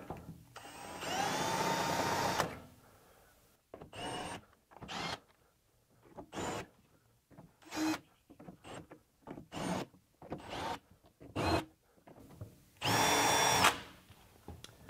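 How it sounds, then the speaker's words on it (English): A power drill with a quarter-inch bit marks holes in a Milwaukee Packout mounting plate, running in short bursts separated by pauses, with two longer runs at the start and end, close by. "I'm going to take a quarter inch drill bit to mark my holes"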